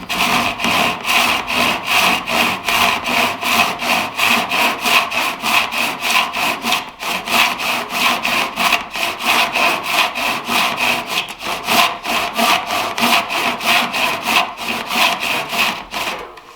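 A handsaw cuts through timber frame wood while housing a mortise, rasping in steady, even back-and-forth strokes that keep up a loud, regular rhythm throughout with no talking.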